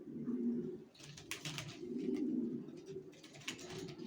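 Racing pigeons of the Johnson line, sold as young birds, coo steadily in low repeated rolling phrases, close and fairly loud, with some higher bright rustling in bursts and no speech.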